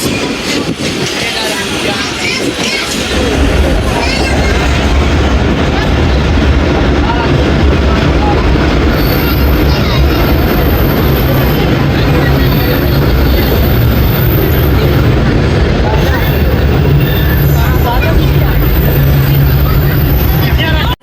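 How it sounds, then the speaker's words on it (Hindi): The Rehman Baba Express 48DN rolls toward Nowshera Junction, a loud continuous rumble of wheels and carriages building after a quieter opening few seconds and holding steady with faint rattling. "नौशेरा जंक्शन पे अप्रोच बना रही है जी 48 टाउन रहमान बाबा एक्सप्रेस"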